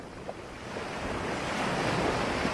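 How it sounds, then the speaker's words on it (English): Ocean waves washing onto a shore in a steady, broad rush that slowly swells louder, with a hint of wind noise and no voices. "we're going to focus on these waves"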